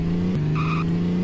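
Car spinning out in the On The Run racing game: a steady, loud engine drone with a squealing tire skid layered on top through the short stretch, no talk.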